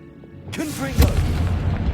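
A Confringo spell blast from Hogwarts Legacy bursts out as a loud, booming impact about halfway through, following a spoken spell-cast. Rumbling debris and combat noise carry on after it.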